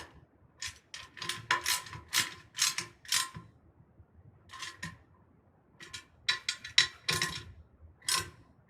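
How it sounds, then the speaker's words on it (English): A drum key tightens a bolt on a Gibraltar gong stand, producing clusters of close, sharp ratcheting clicks in quick bursts separated by a short pause, no talk. "then tighten with drum key"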